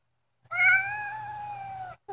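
A Maine Coon cat gives one long, drawn-out meow, loud and close, holding steady before trailing off, with no talking over it.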